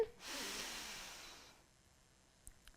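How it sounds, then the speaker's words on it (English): One deep breath drawn in through the nose during a Pilates exercise for scoliosis, a close airy inhale lasting over a second, then near quiet. "We're going to big breath in."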